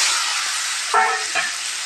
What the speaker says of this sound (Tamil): ஒரு கடாயை வச்சு கொஞ்சம் எண்ணெய் ஊற்றிக்கலாம் கடுகு கொஞ்சம் போட்டுக்கலாம்